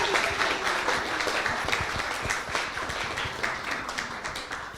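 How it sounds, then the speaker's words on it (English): Audience at a Sri Ram Navami festival applauding children after their play, a dense, lively round of clapping from many people, close and sustained, gradually easing toward the end. "Give your applause to the children now."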